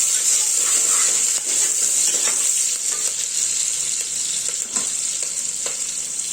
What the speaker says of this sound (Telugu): ఇదిగోండి ఆనియన్స్ కాగుతున్నాయి